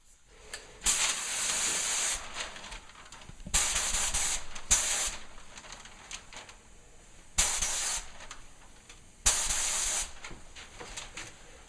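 Repeated hissing bursts of a gravity feed paint spray gun refinishing kitchen cabinets, several short sprays separated by brief pauses, close and fairly loud.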